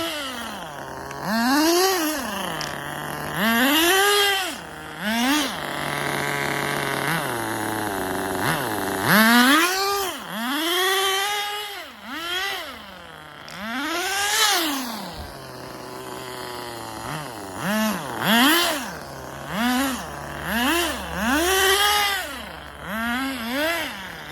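A nitro RC car engine with a sticking carburetor, buzzing high and rising and falling in repeated revving surges, sometimes hanging at high revs before dropping back to idle, close by.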